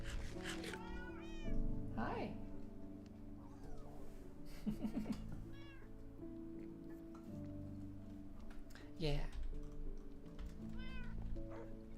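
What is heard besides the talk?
cat meowing in a room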